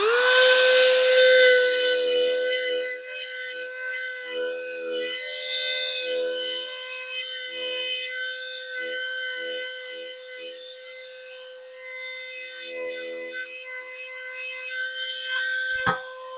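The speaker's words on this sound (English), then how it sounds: "let's give it another whirl with a Dremel" A battery Dremel rotary tool grinds at BergHOFF cookware, a pot missing its nuts. It gives a steady, high, harmonic motor whine that wavers and dips as the bit bites, runs alone for about sixteen seconds and then cuts off abruptly.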